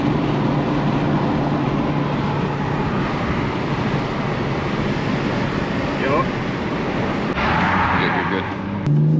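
A 2021 Toyota Supra tuned with a JB4 on the stock downpipe and exhaust drones steadily from inside the cabin, a constant engine and road rumble under people talking.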